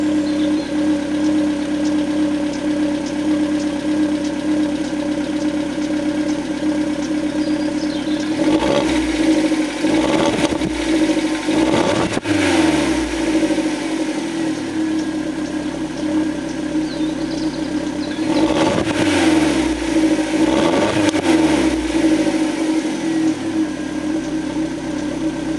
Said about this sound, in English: I'm going to let it warm up and give it a couple of revs